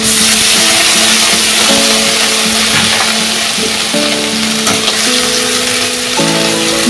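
Onion paste frying in a pan for a katla fish curry with almonds, a loud, dense, steady sizzle close up with faint utensil scrapes and no speech.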